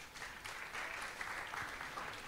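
Crowd clapping at a rabbi's lively religious lecture, dense and sustained throughout, with scattered whoops and no clear speech.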